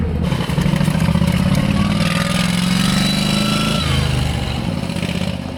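A turbocharged lawn mower engine powering a VW Beetle runs with a loud, close, buzzy drone that rises in pitch and then settles, rough and uneven throughout.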